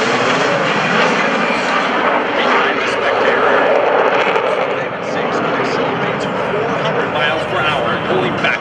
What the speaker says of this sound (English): our 2 solo pilots have turned their smoke on as they commence their approach to the first of their opposing maneuvers